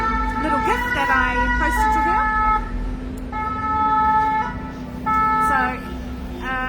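An ambulance siren wails on the Avenue General Leclerc in Paris alongside a truck, its tones repeating in cycles over steady traffic noise at moderate distance.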